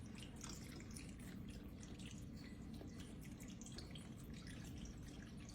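Chicken broth pours steadily over dry bowtie pasta in a pot, a constant close splashing gush with no voices.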